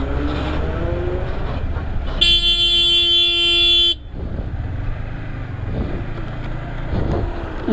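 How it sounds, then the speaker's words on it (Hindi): A vehicle horn blares once for under two seconds on a mountain road during a Yamaha MT15 V2 motorcycle ride in Kinnaur, loud and steady over the rumble of engine and wind noise. "ये तो हॉर्न मार दिया, उसे वक्त रहते हॉर्न मार दिया"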